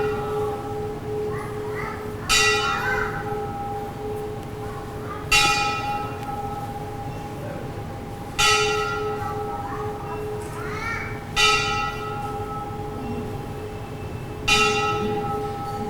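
A church bell strikes five times at roughly three-second intervals, each clang ringing out and fading over a steady tonal hum, with faint children's voices in the background.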